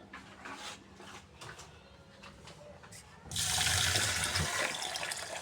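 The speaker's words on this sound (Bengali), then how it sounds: "আমি পরিষ্কার করে চাউলটা ধুয়ে নেব।" Rice is washed in a kitchen sink: first soft scraping and light swishing, then a tap is turned on and water runs loudly and steadily over the grains, close by.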